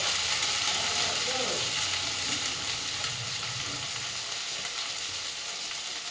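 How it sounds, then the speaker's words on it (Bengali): Capsicum, onion and baby corn go into a pan with fried cumin for fried rice and sizzle steadily, a dense, even hiss close by with faint scraping of stirring underneath. "এখন এটার মধ্যে দিব এই যে ক্যাপসিকাম আর এই যে পেঁয়াজ, বেবিকর্ন"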